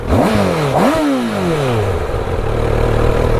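A Honda CBR1000RR Fireblade SP sport motorcycle with standard exhaust revs hard twice, its pitch rising and falling sharply with audible intake noise, then settles into a loud rumbling idle close by.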